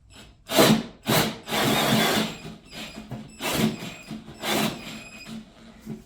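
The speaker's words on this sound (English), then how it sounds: "Especially with this kind of hole saw, you really need the power." A Deko pink 20V cordless power drill drives a 6-inch hole saw into wood, giving loud grinding, rasping bursts that start and stop in several pulses, close by.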